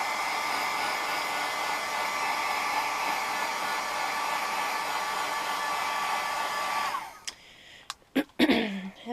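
A handheld hair dryer drying ink on a handmade card blows a steady, close, loud whoosh for about seven seconds, then cuts off, followed by a few short clicks and handling knocks.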